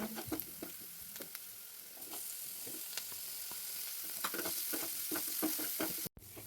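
Onions, tomatoes and other vegetables sauté in a pan for paneer masala dosa filling, a steady sizzle under repeated close scraping stirs with no talking.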